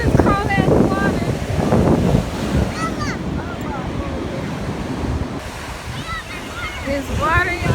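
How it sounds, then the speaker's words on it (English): Cold ocean surf washing in at a beach, a steady rush of waves and wind buffeting close to the microphone, with excited voices talking and shouting over it throughout. "Here comes this cold ass water."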